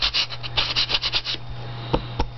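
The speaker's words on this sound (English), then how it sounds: "you can sand it more if you want to" Rhythmic back-and-forth rubbing of sandpaper on a small Vintaj metal charm, a quick run of close, scratchy strokes followed by a couple of lighter isolated scrapes.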